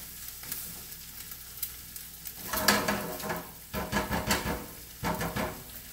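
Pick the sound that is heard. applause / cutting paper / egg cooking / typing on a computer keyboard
egg cooking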